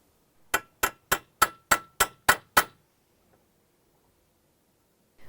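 Eight sharp metallic taps come in a quick, even series as a screw is struck with pliers to make center punch marks for drilling. Each tap rings briefly and close by, then quiet follows.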